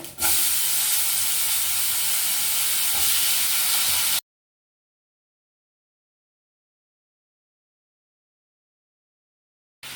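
Raw plantain pieces hit hot oil already popping with mustard seeds and curry leaves, a loud close steady sizzling hiss lasting about four seconds before cutting to silence.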